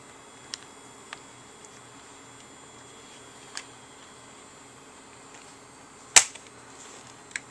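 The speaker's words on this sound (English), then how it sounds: "And that's normal to hear that little unlocking sound." Small plastic clips on an Acer Aspire One D255E laptop screen bezel unlocking as it is pried free: a few faint ticks, then one sharper snap, close in a quiet room.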